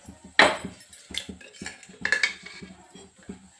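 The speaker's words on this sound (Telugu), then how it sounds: "ఇప్పుడు స్టవ్ వెలిగించి కడాయి పెట్టి పోపుల గరిటె" A metal tempering ladle and a kadai set on a lit stove, a string of sharp close metallic clinks and knocks with no talking.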